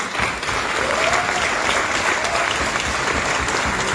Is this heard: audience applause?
yes